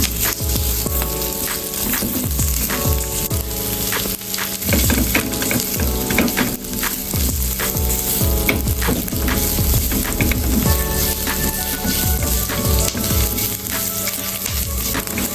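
Chili aromatics and shallots being stir-fried for sambal ijo, a loud continuous sizzle with repeated scraping stirs and crackling oil, close and without talk.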